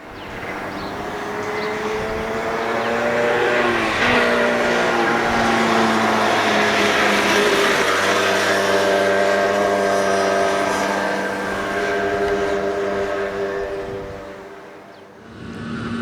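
2022 Rieju MRT 50 LC 50cc liquid-cooled motorcycle being ridden: a steady, close engine drone rises and holds through several gear pitches with wind noise, then eases off and fades near the end.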